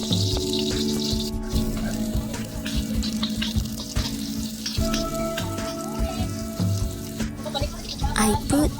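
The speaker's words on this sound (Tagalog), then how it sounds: "I first saute the onion before the garlic" Onion sautéing in a pan gives a continuous frying sizzle with occasional stirring scrapes, close and moderately loud, with background music and a brief voice in the mix.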